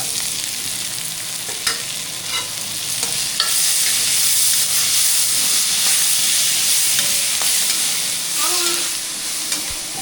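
Onions sautéing in a pan with a pinch of rock salt, a loud steady sizzle with occasional scrapes of a stirring spoon, close and continuous with no talking.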